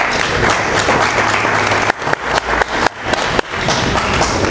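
Dense, loud applause fills a hall for a long stretch, broken by a few dull thumps and brief dips in the clapping, with no talk over it.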